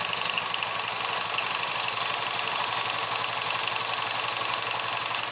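A Honda Vario Techno scooter engine idles close by with a steady, even hum and a faint rattle of vibration throughout. No one speaks over it.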